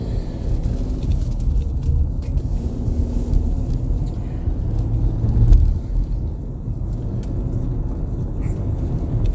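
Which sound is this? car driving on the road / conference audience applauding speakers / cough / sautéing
car driving on the road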